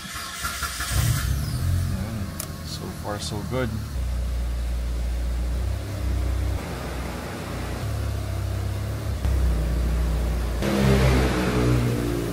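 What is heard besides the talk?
Mitsubishi Evo car engine first start and revving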